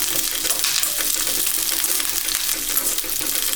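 Dried red chillies, garlic and curry leaves frying in hot oil over a low flame for a Tamil brinjal curry, a dense continuous crackle and hiss heard up close without voices.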